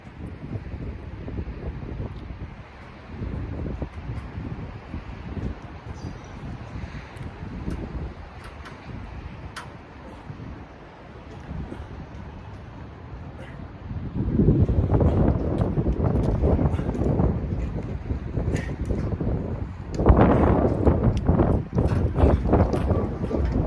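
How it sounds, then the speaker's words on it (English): Strong wind buffets the microphone outdoors in continuous roaring gusts, growing louder and rougher partway through, with no one speaking. "I want to make sure that it's windy out here."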